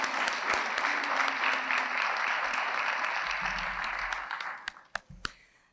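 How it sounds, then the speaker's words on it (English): Applause from the crowd at a Farm Bureau teacher and employee of the year luncheon, a dense, steady round of clapping that thins out over the last second into a few isolated claps. "One more round of applause for all of our finalists and our runner-up"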